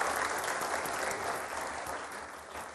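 Steady, dense applause from a large television studio audience, loud and continuous throughout with no voices rising above it.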